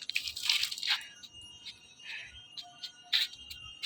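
Water dripping and splashing on plants in a rooftop garden during watering, a few soft bursts of spatter spread across a short stretch, close and fairly quiet, with no talk.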